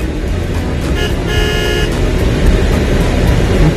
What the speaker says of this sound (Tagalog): Ngayon, medyo traffic.